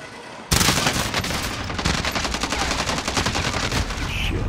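Explosions from an allied cluster strike in an online shooter video game, a sudden loud burst followed by a dense, rapid rattle of blasts and gunfire that keeps going without a break.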